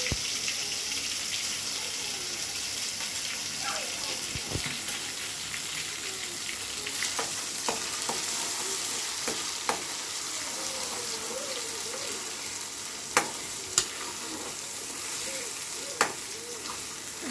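A ginger, garlic and coconut masala fries in hot oil for a chicken curry, giving a steady close sizzle. Occasional sharp clicks and clinks of utensils against the pan break through it.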